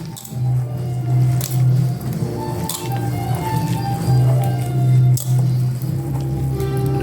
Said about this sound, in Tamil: நல்லா அது போல் பிசைந்துக்குங்க